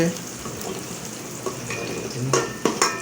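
Curry frying and being stirred in a pan at home, a steady sizzle with a few sharp scrapes and clinks near the end, close and moderately loud.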